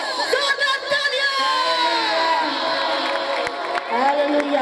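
A congregation at a revival gathering in Pakistan cheering and shouting in a loud, sustained wave of raised voices and whoops, with some clapping mixed in and a voice carrying over the crowd.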